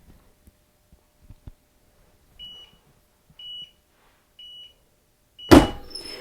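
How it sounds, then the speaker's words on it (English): Heat press finishing its cycle with several evenly spaced electronic beeps, followed by a sudden loud mechanical clunk as the heating element pops up. "when our press is complete, the heating element"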